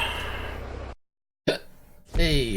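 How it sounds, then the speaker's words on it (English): A single sharp hiccup from a man playing a truck driving game in VR, a short voiced catch that breaks off into a moment of silence, with his voice before and after. "Hey, hiccups."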